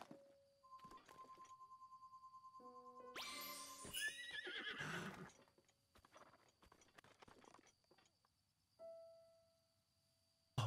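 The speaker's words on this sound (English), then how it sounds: "Oh my gosh, we got a horse." A horse in The Legend of Zelda: Breath of the Wild whinnies loudly in one long, shrill neigh partway through. Game chimes and tones play around it, followed by softer clicks and thuds.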